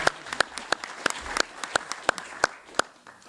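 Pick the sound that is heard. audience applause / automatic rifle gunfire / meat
audience applause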